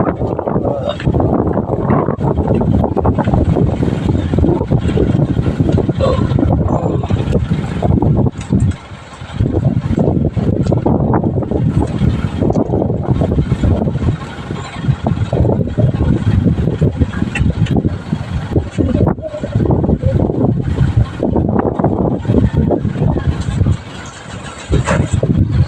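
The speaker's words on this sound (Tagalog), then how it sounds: "Yung ating hangin eh." Wind blows across a boat in a loud, continuous roar with gusting surges and a rumbling undertone, while voices speak intermittently beneath the noise.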